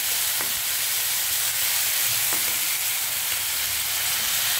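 Ginger garlic paste frying in hot oil in a pan, a steady, loud, close sizzle that holds unbroken throughout with a few faint knocks of a utensil underneath.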